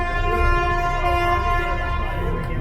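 A Sydney ferry bound for Manly sounds its horn: a loud, sustained, deep blast with rich harmonics, heard up close and continuous over rumbling engine and water noise.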